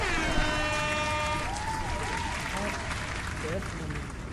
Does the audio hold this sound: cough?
no